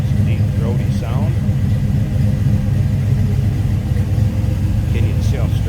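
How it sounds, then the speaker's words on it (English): A 1973 Chevrolet Camaro Z28 with a 350 V8 idles in a low, steady, throaty rumble heard up close, with brief voices and faint talk over the continuous engine note. "Nice little rumble out of that 350 V8. Nice, neat, throaty sound."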